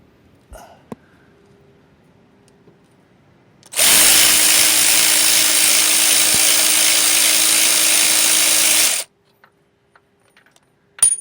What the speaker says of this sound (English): Then take the two starter securing bolts out.